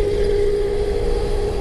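A noisy truck on the road gives a continuous loud engine drone with a steady hum, holding level throughout with no voices over it.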